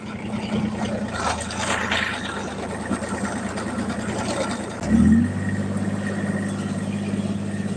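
A tractor engine drones steadily while raking hay in the field, a low mechanical hum with a brief louder surge and shift in tone around the five-second mark, running on alone without voices.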